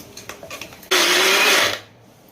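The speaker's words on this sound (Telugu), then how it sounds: "ఇప్పుడు ఈ మిశ్రమాన్ని అంతా మిక్సీలో వేసుకుందాం." A mixer grinder whirs loudly for about a second as it blends mint and tomato chutney, starting abruptly after a few faint kitchen knocks and winding down into quiet.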